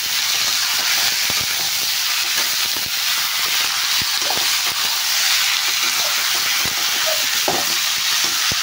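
Chicken pieces stirred and frying in a kadai for chicken masala curry give a steady, loud sizzle and hiss, with scattered scraping clicks from the spoon throughout.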